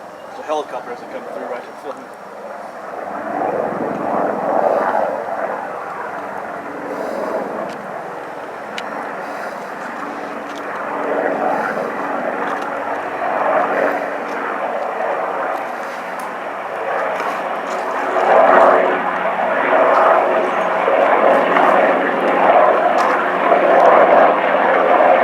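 A helicopter's steady engine drone passes overhead on a hiking trail, building and holding for a long stretch with faint murmur beneath it.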